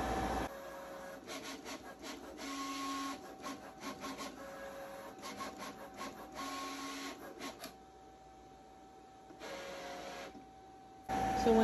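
An electronic cutting machine slices cardstock on a mat, whirring and scraping in repeated bursts as the carriage moves back and forth, with steady motor hum and short pauses between passes.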